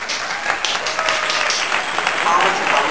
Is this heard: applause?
yes